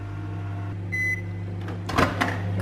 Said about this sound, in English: we're going to pop it in the microwave, pop it in for a minute